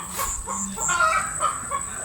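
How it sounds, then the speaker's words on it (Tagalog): An agitated chicken clucks and squawks nearby in a rural backyard, with rapid uneven calls mixed with faint background bird and farm sounds. "Yung manok galit na galit ba?"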